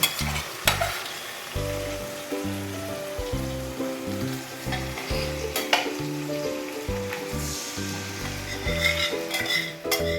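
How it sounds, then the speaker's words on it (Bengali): Chicken for a cheesy Bengali chicken curry fries over raised gas heat while being stirred hard in a pan, a continuous close sizzle broken by repeated scraping and knocking strokes of the spoon, with no voices. "গ্যাসটাকে আমরা অল্প একটু বাড়িয়ে একটু খুব ভালো করে কষে নেব"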